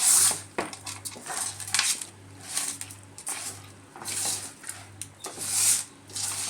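Fish pieces being mixed with salt, chili powder and oil in a metal bowl for Andhra fish curry, with repeated scraping and clinking of utensil on vessel in uneven strokes, close and moderately loud, alongside a faint steady hum.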